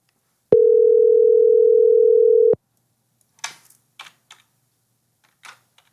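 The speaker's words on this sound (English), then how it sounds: "we're going to ring him up and see if we can't get him on the phone" A steady telephone dial tone holds for about two seconds while a call is placed, then cuts off, followed by a few faint scattered clicks.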